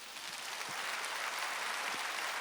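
Steady wash of applause from a church congregation greeting the preacher at a Korean worship service, sustained and even throughout with no voices over it.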